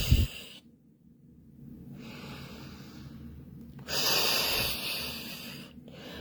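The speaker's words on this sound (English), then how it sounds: "So this is a harder breathing," Hard, forceful breaths during a breathing exercise, each a long rushing exhale or inhale separated by near-silent pauses, fairly close and uncovered by talk.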